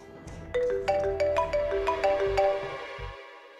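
A telephone ringtone plays during a tense family drama call, a melodic electronic tune of bright repeating notes that rings for about three seconds and then cuts off, with no talking over it.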